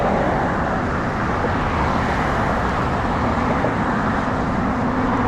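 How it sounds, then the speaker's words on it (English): Steady road traffic rolls past at close range, a continuous loud wash of car and vehicle noise with no pauses and no one speaking. "I got distracted by the traffic."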